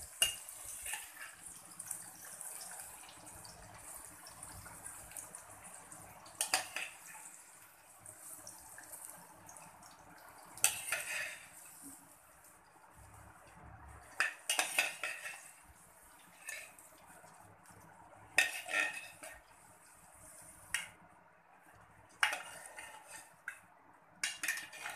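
Fried cauliflower is lifted out of a pan of hot oil, a soft sizzle running underneath while utensils scrape and clink against the pan every few seconds.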